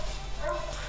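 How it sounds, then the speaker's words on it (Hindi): Dogs barking outdoors during a yoga class, a brief, faint, distant bark over a steady background hum. "देखिए दोस्तों कुत्ते बहुत भौंक रहे हैं"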